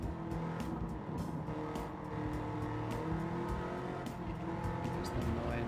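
Porsche 993 race car in a racing video game, its engine droning steadily and close with harmonic whine throughout, plus brief tire-squeal-like bursts, no speech.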